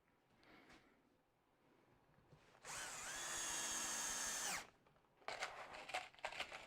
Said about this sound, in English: so I can put the screws in